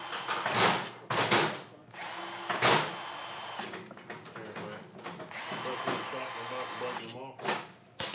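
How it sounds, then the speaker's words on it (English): A power tool loosening screws on an American Sanders Super 7R floor sander during repair, heard in short bursts of whirring and ratcheting between pauses, with speech at points. "I loosen them by hand, and then I'll use the power tool."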